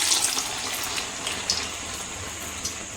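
Water splashing and trickling as a hand is dipped into a bowl of water while shaping tea-shop style medu vada, a steady close wash of sound with a few small splashes and no speech.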